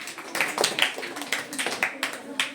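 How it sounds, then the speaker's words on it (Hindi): Schoolchildren in a classroom clap for a pupil, with a scattered, uneven burst of sharp hand claps close by, some bunched together and others isolated. "जोरदार ताली बच्चे के लिए भाई"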